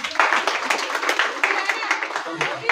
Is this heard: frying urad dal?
no